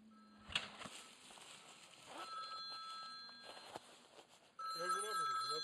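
A telephone rings with a repeated electronic ringtone that grows louder near the end, heard under a quiet room and people talking nearby.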